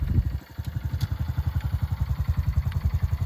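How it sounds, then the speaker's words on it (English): A 2021 Honda CRF125F clutch dirt bike idles and chugs nearby as it rolls to a stop, its single-cylinder engine pulsing in a steady, slightly uneven beat without stalling. "His first time coming to a stop with a clutch-operated bike without killing it."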